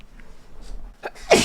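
One sharp human sneeze bursts out close and loud at the end, after a second or so of near silence with faint background noise.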